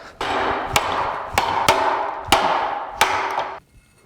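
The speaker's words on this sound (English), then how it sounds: "2x4 chop." Knife blade chopping through a 2x4 board, five sharp wooden impacts in an uneven rhythm, close and fairly loud with nothing else heard.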